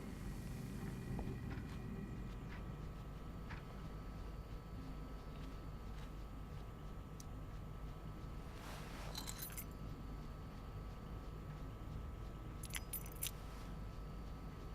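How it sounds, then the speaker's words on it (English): Keys jangling and clinking in the Life is Strange: Before the Storm video game, repeated bursts of metallic chinks over a steady low ambient hum, with no talking. "Bringing David his keys is about the most humiliating thing Mom could ask me to do"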